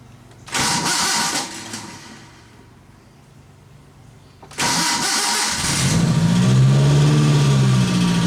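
A Suzuki Carry 1000 with an aftermarket air conditioner cranks briefly and catches. After a pause it cranks again, fires, and settles into a close, loud, steady idle with a slight rise in pitch.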